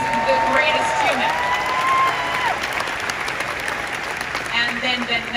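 A Marvel panel audience at San Diego Comic-Con 2022 claps and cheers in a large hall, a dense and steady roar that stays loud throughout. Whistles and scattered voices rise above it.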